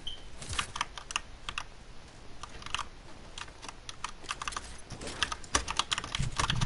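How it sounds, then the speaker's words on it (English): A mechanical keyboard clacks loudly during Fortnite play, a close, uneven run of rapid keystrokes with denser bursts near the end, heard alone without talk. "Your keyboard is really loud. Yeah, man, it's a mechanical keyboard."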